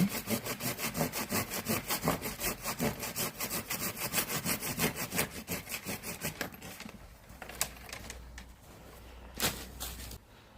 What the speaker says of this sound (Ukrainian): поки у нас пилка в руках, то ми видаляємо ці гілки, які вже затовсті